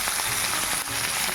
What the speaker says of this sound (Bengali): শুকনো লঙ্কা ফোড়ন দেখুন, লঙ্কাটা লাল হয়ে গেছে